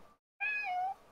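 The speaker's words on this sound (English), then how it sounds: "She says meow." A young cat gives one short, clear, close meow after a brief silence.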